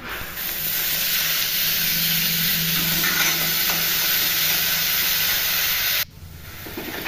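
Mushrooms sizzling in a pan with green chillies and onion, a steady loud hiss of frying that holds evenly before briefly dipping near the end.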